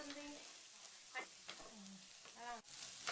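Potatoes frying with chili powder in a pan, Andhra-style potato fry, a constant close sizzle with scattered scrapes and stirring clatters of a utensil against the pan.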